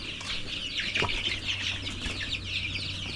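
Chickens cluck and murmur softly in the background, with one brief sharper call; fairly quiet, no talking.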